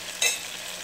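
Tomatoes sautéing in a pan for a simple tomato side dish, a brief scrape of stirring over a low sizzle, heard close with no voices.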